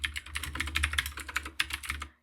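Quick, steady keystrokes on a computer keyboard as a command is entered at a terminal, a continuous burst of close, crisp clicks with a few louder key hits, fading out at the end.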